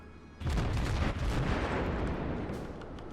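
Ship guns of the cruiser Konigsberg fire in the naval game World of Warships, a sudden loud boom rolling into a long rumbling tail.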